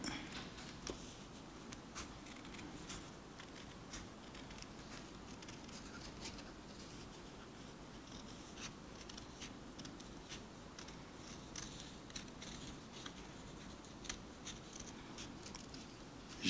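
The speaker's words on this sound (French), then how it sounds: "découpe toujours en suivant la ligne qu'on a tracée" Scissors snip paper along a drawn line during a toddler craft activity, making quiet, repeated crisp cuts at an irregular pace over a faint, steady background.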